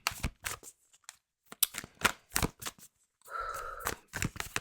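Tarot cards are shuffled by hand in quick riffling bursts and soft slapping flicks, close and quiet, with short pauses between bursts and no talking.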